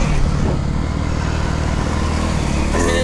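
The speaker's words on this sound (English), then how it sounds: "Oh, Henry's on his 2-stroke" Two-stroke dirt bike on a practice track roars loudly and steadily as it passes close by, engine note holding high throughout with no talk.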